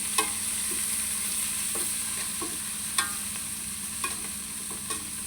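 Green chilies and tomatoes sautéing with onions in a pan give a steady, close hissing sizzle, broken by a few sharp spatula knocks and stirs. No one speaks.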